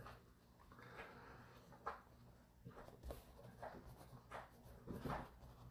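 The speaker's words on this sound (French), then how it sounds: "Ça, c'est le chien qui se liche" Dog licking itself nearby, a series of soft wet slurping laps repeating irregularly at low volume.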